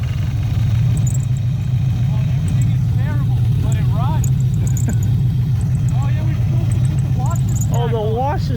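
A V8 engine swapped into a 1974 Ford Maverick idles with a steady low rumble throughout, while people talk over it nearby.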